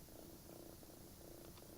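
A cat in the Postal 2 video game purrs softly in a steady, rhythmic cycle of breaths, quiet and close, with no other sounds.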